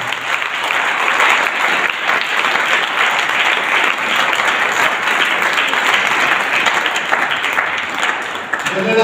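A church congregation applauding steadily and loudly at a Pastor Balkar Chand Ministries service in Bhogpur, dense continuous clapping filling the room for the whole stretch, with a voice faintly underneath.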